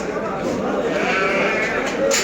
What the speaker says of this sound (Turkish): Bunların hepsi kısır keçi. Yani dişi keçi.